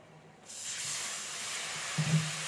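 Hot oil with fried gram flour hisses into a loud, steady sizzle as chili, coriander and turmeric powder with a splash of water go into the pan, a brief bubbling flare near the end.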